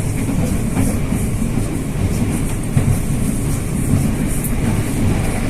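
An electric commuter train operated by KAI runs steadily, heard from inside with a continuous low rumble and faint rhythmic clatter of the wheels, and no talk.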